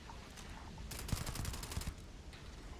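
Weapon fire from the Ryujin compact, a modded gun in the Starfield video game: a short rapid burst of automatic shots in the middle, with quieter game ambience before and after and no talk.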